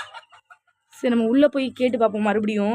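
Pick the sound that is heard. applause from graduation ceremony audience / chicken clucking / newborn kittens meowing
chicken clucking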